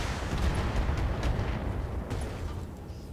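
Mech weapons fire in a Battletech battle, a dense continuous barrage of booming, rumbling impacts with crackling bursts layered on top, steady and loud throughout.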